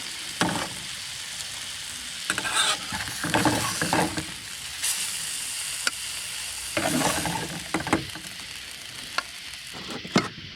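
Blackened fish fries in a pan at a solo boat campsite, with a steady close sizzle and occasional scraping and stirring bursts as it is turned.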